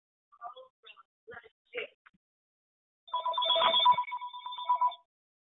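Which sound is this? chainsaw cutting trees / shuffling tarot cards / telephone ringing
telephone ringing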